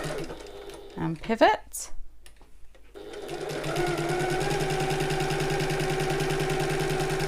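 After a short spoken phrase and some handling clicks, a sewing machine starts up and runs steadily up close, back stitching on a shoulder bag with a smooth, even motor whir and rapid stitch rhythm.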